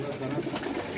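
Pigeons coo softly in a loft amid a dense, noisy background, the low murmuring calls blending into a continuous wash over about a second.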